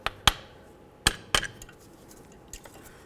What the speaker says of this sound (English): Next we're going to remove the pads.